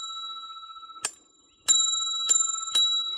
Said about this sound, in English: There's a little bell the other side, so you hit it.